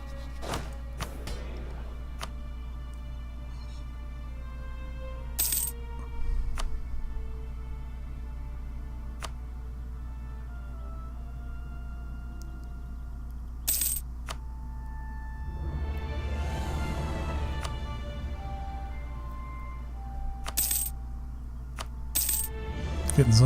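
Coins clink and drop in scattered short bursts in Europa Universalis IV strategy gameplay, sharp metallic chimes over a steady low hum, with a brief swell of noise in the middle.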